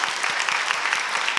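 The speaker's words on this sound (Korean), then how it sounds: "우리 박수로 환영하도록 하겠습니다" A church congregation at a Sunday worship service claps together in welcome, a dense, even patter of many hands with a few heavier beats, fairly loud and close throughout.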